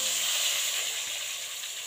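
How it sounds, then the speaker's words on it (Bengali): Eggplant slices frying in hot oil give a steady, close, broadband sizzle and hiss that holds evenly throughout, with no talking. "এরপর আমি গরম তেলে বেগুনগুলো ছেড়ে দেব।"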